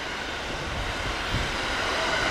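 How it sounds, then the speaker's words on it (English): An express train rushes past near an underpass in a steady, broad roar of wheels and wind that swells slightly toward the end, fairly loud with no voices. "That's an express train. Those things go incredibly fast."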